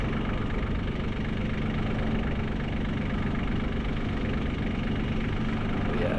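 A Helicopter Load Master tug with hydraulic wheels pulls in the wrong gear, its engine holding a steady, moderately loud, slightly knocking drone throughout with no voices.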